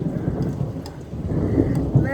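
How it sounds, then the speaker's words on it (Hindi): Heavy rain hisses steadily while low thunder rumbles underneath, loud and close throughout the short stretch, with no clear voices over it. "निकलने के ही टाइम पे इतनी तेज़ बारिश हो गई"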